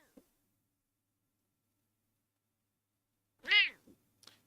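A pet cat gives one clear, drawn-out meow that rises and falls, fairly close and fairly loud, followed by a short softer chirp and a faint click, after a long quiet stretch in an otherwise still indoor room.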